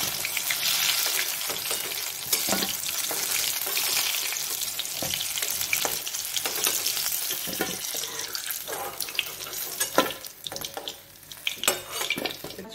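Bengali telebhaja fritters frying in hot oil, a bubbling sizzle broken by sharp crackles and clinks as pieces drop in and get stirred, with occasional water-like splashes.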